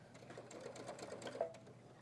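A sewing machine at a quilting shop runs after being started with its button rather than a foot pedal, a quiet rapid stitching patter with faint ticks, soft and close.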